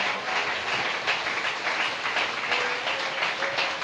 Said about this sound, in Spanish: ¿Por qué no le das un aplauso fuerte al Señor?